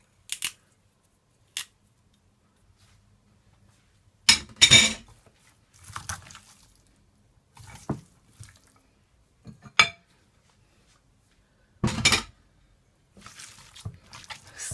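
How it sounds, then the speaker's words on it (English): Knife chopping fresh thyme on a cutting board, several sharp separate taps and short clusters of cuts, close and clear against near silence. "I'm just gonna take my knife and just cut it up."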